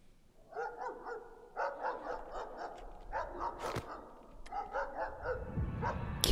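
The hellhound Cerberus in the game Pocket Mirror lets out repeated mid-distance barks in uneven clusters over a low murmuring backdrop, with a sharp noisy burst partway through and no speech.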